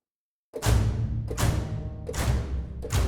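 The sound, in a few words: sampled bass col legno, bow wood on strings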